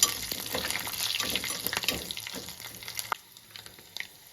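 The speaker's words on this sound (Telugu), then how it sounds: "ఇప్పుడు 3 ఎండుమిర్చి అనేది వేసుకుందామండి. ఇది బాగా వేగాలండి, లో ఫ్లేమ్లోనే వేయించుకోవాలి." Three dried red chillies fry in oil over a low flame for a tempering, a close crackling sizzle with scattered pops and stirring scrapes that thins out and quiets toward the end.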